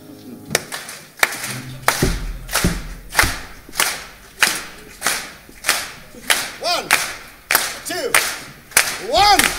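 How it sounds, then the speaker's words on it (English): A concert crowd claps along in a steady, even beat during a tribute show, loud rhythmic hand claps over singing and music. "Come on now, clap your hands now."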